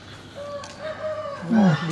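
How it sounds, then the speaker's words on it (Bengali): Chickens of various breeds at an agricultural farm cluck and call in short bursts over a busy background, with one louder, nearer squawk toward the end. "এগুলো হচ্ছে বিভিন্ন জাতের মুরগি, হ্যাঁ বিভিন্ন জাতের মুরগি। ওই যে আওয়াজ দিছে"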